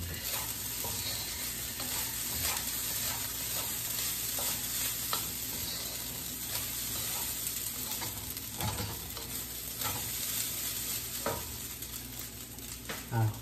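An egg fries in a pan, a continuous crackling sizzle with occasional spatters and stirring clicks, steady and close.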